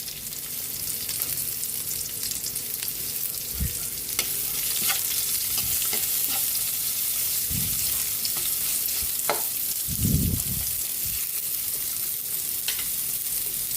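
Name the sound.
onion added to frying garlic, sizzling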